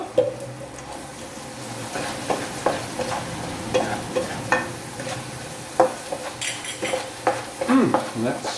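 Chicken stir-fried with cashew nuts and sesame oil sizzles loudly in a pan while utensils scrape and clatter in quick, irregular stirring strokes, close up.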